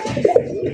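A pair of large black fancy pigeons cooing once in a short close burst over low background noise.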